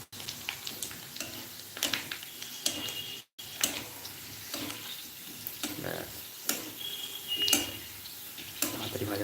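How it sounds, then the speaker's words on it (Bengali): Fuchka puris frying in hot oil at a live street stall in Kolkata, with a soft sizzle, intermittent sharp clicks of a utensil and nearby voices talking. "তাড়াতাড়ি ভাজা হয়ে যাচ্ছে,"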